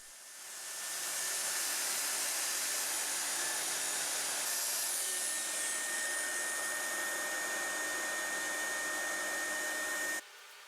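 A power saw cuts bevels along the left and right sides of a wooden side piece, a steady high whining hiss that rises in the first second or so, holds nearly ten seconds, then drops off sharply.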